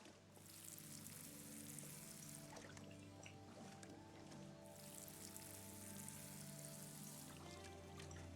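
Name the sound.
water pouring from a watering can in the video game Nightingale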